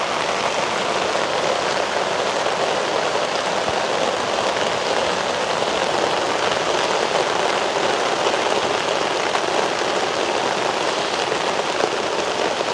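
Steady, loud rain falls across a rural village setting during a Thaipusam harvest ritual, a dense continuous hiss of drops on surfaces with no voices.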